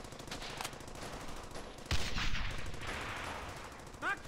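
Rapid, rattling bursts of battle gunfire in the World War II shooter Brothers In Arms: Hell's Highway, with machine-gun fire and scattered shots continuing at a moderate, slightly distant level throughout.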